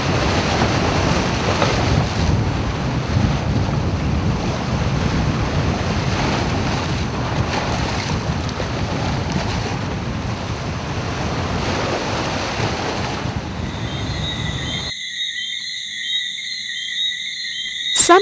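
Large waves crash and surge against rocks on a Jamaican shore, a loud continuous roar with wind buffeting, then cutting off abruptly near the end.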